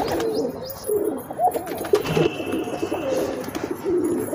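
Pigeons, including green and khaki-coloured birds, coo softly and repeatedly amid rustling and a busy background, with low throaty calls rising and falling.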